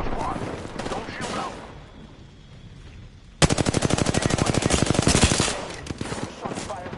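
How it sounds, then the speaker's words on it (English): Video game gunfire rings out as a loud, rapid automatic burst lasting about two seconds, set between quieter stretches of game sound. "Shots fired at me"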